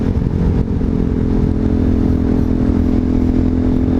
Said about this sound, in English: it fired first try easy with the electric start